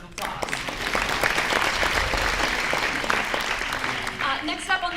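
An audience bursts into applause after a theater performance, the clapping swelling quickly and holding strong, then a voice and scattered cheers emerge as it tapers near the end.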